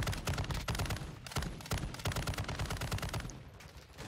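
Rapid bursts of gunfire from enemy players in Call of Duty Warzone 2.0 DMZ mode, dense and continuous over several seconds with repeated automatic volleys, loud and steady, with no talk over it.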